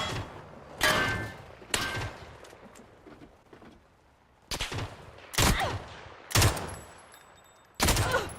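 Console shooter gunfire erupts in several sharp, loud bursts separated by quieter stretches, some volleys longer and rattling, others single cracks, with little talk around them.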